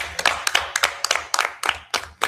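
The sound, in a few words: hands clapping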